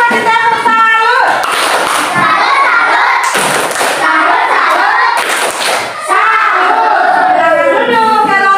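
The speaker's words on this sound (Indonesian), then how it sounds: "Tepuk salut dulu, kasih tepuk salut." A class of students chants and claps the rhythmic 'tepuk salut' cheer together in loud, repeated bursts, with voices shouting along to the clapping pattern.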